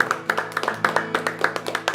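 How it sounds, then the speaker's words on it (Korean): A small prayer-meeting congregation claps in praise, sharp close hand claps in a quick, fairly regular rhythm over a sustained musical drone. "우리 하나님께 작지만 영광의 박수 올려드렸으면 좋겠습니다."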